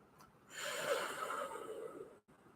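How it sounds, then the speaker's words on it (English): One long, forceful exhale rushes out through pursed lips, breathy and close, lasting well over a second before stopping abruptly. "I get quite a volume of air breathing out"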